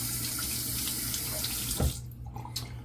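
A tap runs steadily into a sink for rinsing, close and loud, then shuts off near the end and leaves only a few faint drips and handling sounds.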